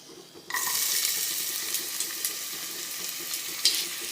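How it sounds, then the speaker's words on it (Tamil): Onion hits hot oil in a pressure cooker with a sudden loud hiss. The sizzle then holds steady and close, with faint scrapes and one sharp pop near the end. "சூடானோடனே இதில் வெங்காயம் ஆட் பண்ணிக்கலாம்."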